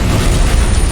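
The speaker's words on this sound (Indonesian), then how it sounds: "ledakan mengguncang ruangan." An explosion rocks a room in an action film, a loud, dense roaring blast that fills the whole moment with rumbling debris and no voices.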